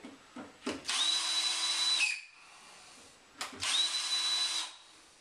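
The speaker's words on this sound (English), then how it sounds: "drill the holes first and then use a high-speed steel bit just to punch a hole into the steel" A power drill whines at high speed drilling holes into a plaster wall, in two bursts of about a second each, separated by a short pause, close by and loud.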